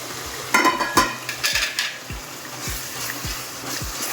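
Garlic being stirred into garlic pickle masala in a pan, with a spoon scraping and tapping in a slow regular rhythm under a faint sizzle, close up and without speech.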